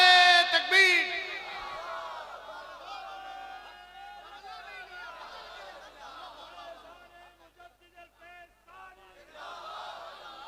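A large crowd at an Urs religious gathering shouts a unison chant in reply to a call, loud at first, then holding as a sustained chorus of voices that thins and swells.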